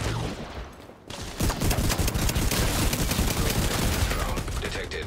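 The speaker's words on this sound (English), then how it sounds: "Shotgun time, baby!" Rapid shotgun and gunfire in an online shooter game, a dense loud barrage of shots that barely pauses, with a player's voice faintly under it.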